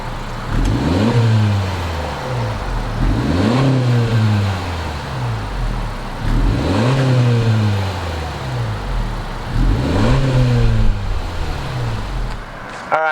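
A 2019 Honda Civic Sport Touring hatchback engine revs up close and loud in three repeated blips, each rising sharply in pitch and then falling back to idle, with a steady idle hum between them.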